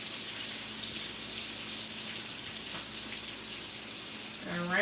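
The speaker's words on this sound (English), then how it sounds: "please be careful when you're frying your fried plantains and tostones" Plantains for tostones frying in hot oil, a steady loud hiss and sizzle running throughout, with a brief rising squeak right at the end.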